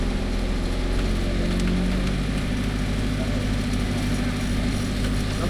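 A motor engine hauls a cable tram across a river in Buscalan, Kalinga, running as a steady, close, mid-pitched drone with a constant low hum and no pauses.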